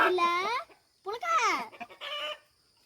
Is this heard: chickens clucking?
yes